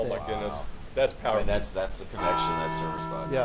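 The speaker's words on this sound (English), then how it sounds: "if you hear the bells in the background, that's the Liberty Bell, and all the people who are here today ringing it" The Liberty Bell is rung by visitors, its tolling faint in the background beneath a close conversation between people talking.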